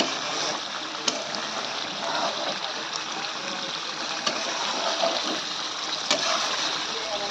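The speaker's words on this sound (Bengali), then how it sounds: "এর সঙ্গে দিয়ে দেবো পরিমাণ মতন জল অ্যাড করে দেবো" Water pours and splashes steadily into a pan of thickened, well-cooked chicken curry, a continuous close gush with a few sharper splatters and no talk.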